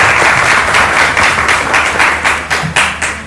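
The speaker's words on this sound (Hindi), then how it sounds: "आप लोग तालियां बजा सकते हैं" A studio audience applauds loudly on a Ramadan television programme. Dense, close clapping runs throughout and thins into separate claps toward the end.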